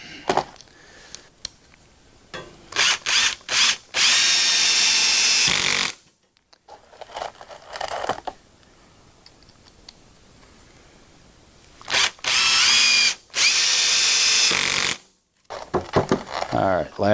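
Power drill running in several loud bursts while pre-drilling holes for heavy-duty garage shelves, separated by quieter handling and clatter.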